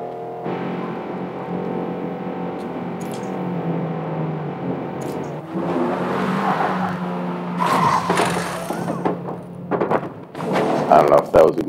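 A race car in the video game Forza Motorsport pulls into the pits, with a droning engine tone that shifts and fades, then rising revs and tire noise near the end, while a person talks over it.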